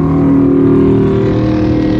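A loud, steady motorcycle engine drone with a gritty low rumble holds throughout as it passes close by, with no talking.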